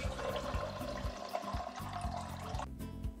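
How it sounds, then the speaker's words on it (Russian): About 800 ml of water is poured into a blender jar holding almonds, making a steady rushing, gurgling pour with low rhythmic glugs that cuts off sharply near the end. "добавляем 800 мл воды"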